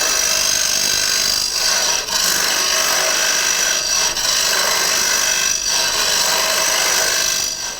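A straight hollowing bar cuts wood inside a turned bowl with a loud, continuous rasping scrape that barely lets up, with only slight dips in intensity throughout.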